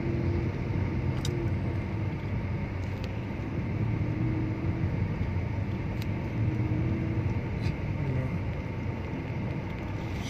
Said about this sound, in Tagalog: Tayo mga usad sa traffic dito parati